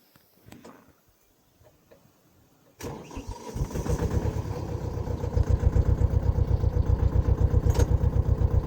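A farm tractor engine used for black gram sowing cranks and catches after a few quiet seconds, then settles into a loud, rhythmic chugging idle with even pulses close by.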